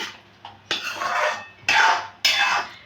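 Spoonfuls of sticky date and mango leather chutney are scraped and dropped into a serving dish, giving three close clattering bursts of utensil against dish with a soft rustle between them.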